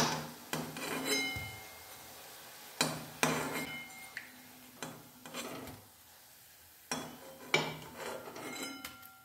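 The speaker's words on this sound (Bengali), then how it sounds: "সমস্ত বলগুলো আমি এমনি করে প্লেটে তুলে নিচ্ছি" Fried kofta balls are lifted from the pan onto a plate with light, irregular scrapes, taps and clinks of a utensil against metal and crockery, close by, with brief pauses between the moves.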